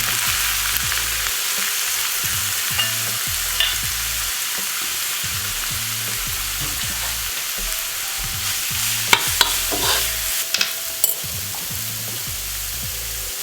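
Cauliflower rice sizzles steadily in a hot pan while a utensil stirs and scrapes it in a repeated rhythm, close and clear with a few sharper clicks, and no talking.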